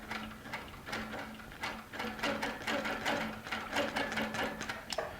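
Baby Lock Regent sewing machine stitching quilting, a steady, moderately loud mechanical chatter of repeated needle strokes with rhythmic clicks running continuously throughout, no voices.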